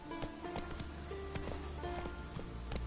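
Roach the horse galloping in The Witcher 3, a steady run of hoofbeats with clip-clop rhythm under game music and ambience, moderately loud and close throughout.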